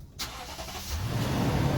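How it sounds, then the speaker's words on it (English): A Lexus GX460 SUV's engine cranks and catches after a short click, then settles into a steady low rumble that holds close and clear with no talk over it. "Let's go ahead and step on the brakes and start your car."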